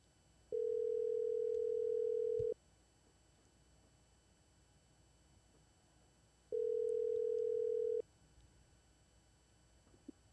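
A telephone rings out while a call is placed: two long, steady electronic tones, each about two seconds, separated by a pause and heard cleanly with no talking.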